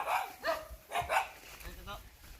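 A dog barks a few times, medium distance, with people talking nearby in the background.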